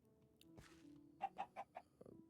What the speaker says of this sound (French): Donc là, on a une poule.